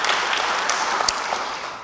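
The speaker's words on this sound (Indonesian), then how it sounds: "Beri tepuk tangan bagi dia." A church congregation applauds, dense and even clapping that stays fairly loud throughout a brief two-second burst, with a few sharper individual claps standing out.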